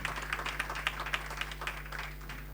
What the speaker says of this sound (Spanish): Fuerte el aplauso entonces